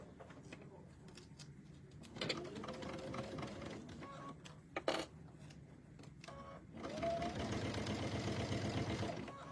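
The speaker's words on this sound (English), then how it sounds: "Which I'm going to do a very scant stitch." A sewing machine runs in short bursts while stitching Velcro onto a towel bag, its motor buzzing steadily in two main runs with clicks and handling noises between them.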